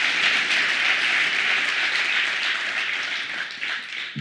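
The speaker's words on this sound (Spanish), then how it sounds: "denle un aplauso al Señor Jesucristo." A church congregation gives strong, sustained applause, a dense wash of clapping that fades a little toward the end.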